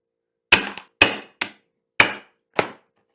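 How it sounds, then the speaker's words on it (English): A plastic-head hammer whacks a pin out of a Browning BLR lever-action rifle, giving five sharp, close knocks at an uneven pace, a couple with quick rebounds, each ringing off briefly in an otherwise silent room. "So I'm going to use my plastic head hammer and just whack it."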